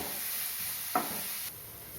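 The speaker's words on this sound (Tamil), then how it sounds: "வெங்காயம் ப்ரௌனிஷாக வதங்கிடுது" Onions sautéing in a pan for a spicy Hyderabad-style egg masala until they brown, a faint steady sizzle with a brief stirring scrape partway through.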